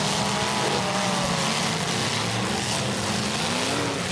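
A demolition derby car's engine in a Pro Lite heat roars and revs under loud, dense broadband noise, with the engine sound continuous and no voices.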